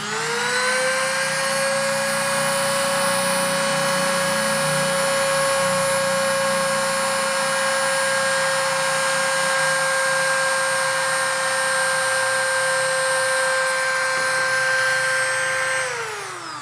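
Yasuka YDG-135A mini die grinder spinning up to full speed, a loud, steady high-pitched whine held for about fifteen seconds before winding down, heard alone.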